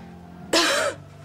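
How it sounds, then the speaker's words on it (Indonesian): A woman with a worsening cough lets out a single harsh, close cough, short and forceful, against a quiet room. "Saya perhatikan semakin hari batuk kamu semakin parah."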